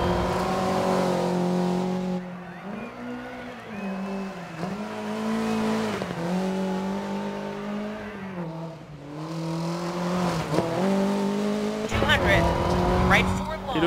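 Rally car engine in DiRT 4 revving and shifting through gears at high speed, with rising and falling pitch, tire noise and a co-driver calling pace notes, plus commentary over it.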